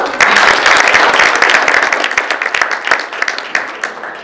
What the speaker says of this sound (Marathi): सगळ्यांनी त्यांच्यासाठी एकदा टाळ्या वाजा